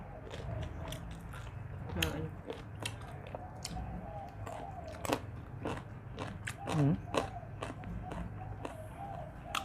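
Crunchy fried fish is bitten and chewed up close, a string of crisp crackling bites repeating through the clip with soft voices talking in between.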